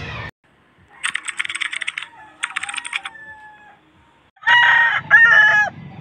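Roosters crowing at a Saturday cockfighting derby and gamecock sale in Pampanga, several loud near crows in separate bursts with gaps between them, the last crows overlapping.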